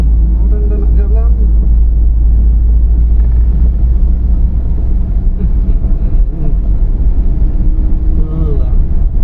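A large Malaysian vehicle idles loudly with a deep, steady engine rumble, about to pull away, while people talk nearby throughout.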